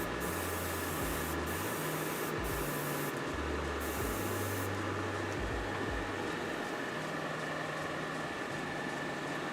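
Paint is sprayed onto a model, a loud, steady hiss that runs the whole time, with a low hum of equipment coming and going underneath and no talk.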